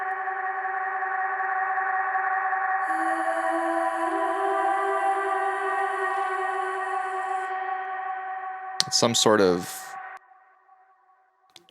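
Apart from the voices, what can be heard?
tape echo with spring reverb effect in music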